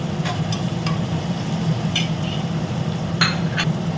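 Paneer frying in a pan for paneer pulao, a steady low sizzle with a few light clinks and scrapes of a utensil against the pan.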